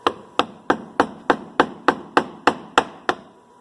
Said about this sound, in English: I'm just going to use a mallet and a chisel.